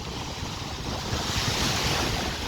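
Rough surf churns steadily, a broad continuous roar of waves mixed with wind buffeting the microphone, no voices.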